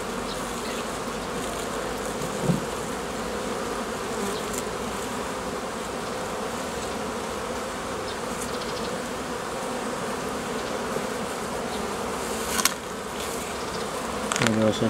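A dense, continuous buzz of many honeybees around a hive fills the air, steady throughout with a few brief louder passes close by.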